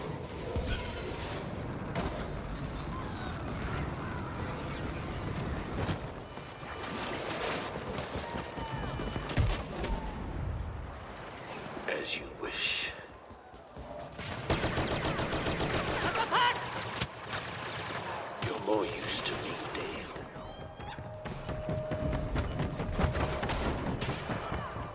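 Star Wars Battlefront video game Y-wing bomber attack with dense, continuous gunfire and blasts, loud rapid bursts and booming impacts layered throughout, with a brief lull midway before the barrage resumes.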